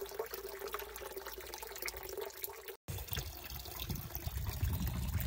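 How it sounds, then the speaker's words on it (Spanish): Water from a hose fed by a 12V battery pump trickles into a pond about 20 meters from a well, a quiet, steady splashing flow with a brief dropout midway. "Este estanque está a unos 20 metros del pozo y el agua sí que llega, aunque el caudal es bastante menor"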